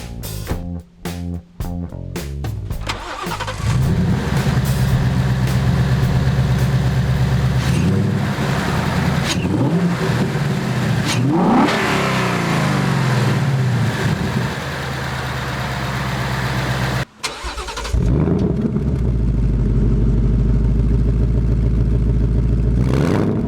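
A 2019 Ford Mustang Bullitt's 5.0-liter V8 rumbles loudly and up close, idling with a steady low growl and swelling into revs, breaking briefly near the end before roaring back in.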